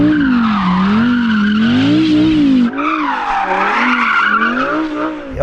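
Tyres skidding and squealing on a car warming them up before a drag race between a Porsche Cayenne Turbo GT and an Audi R8, a loud, wavering, continuous screech close by.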